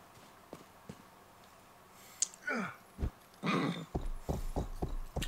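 Horse in the medieval-themed video game GTA Medieval, hooves clip-clopping in a quick run of distinct knocks, joined by a snort and neigh, fairly close with faint background ambience.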